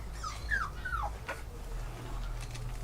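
Puppies in an abandoned house whimper and yip, with several high, thin whines rising and falling close by over a low steady hum.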